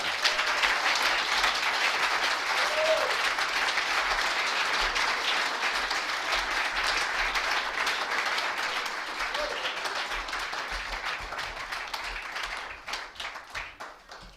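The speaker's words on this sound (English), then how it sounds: "Let's give Greg one more round of applause." A room full of people applauds Greg at the close of an evening talk, a dense, steady wash of clapping that holds strong for most of its length before gradually thinning and tapering off near the end.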